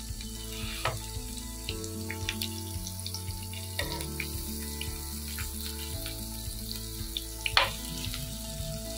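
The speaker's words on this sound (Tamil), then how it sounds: "இந்த மசாலாவோட இந்த ஆயிலோட இந்த மீன் நல்லா ஃப்ரை ஆகணும்" Vanjaram fish pieces frying Chettinad style in ground masala and oil, a steady crackling sizzle over a low hum, with occasional louder pops and spits.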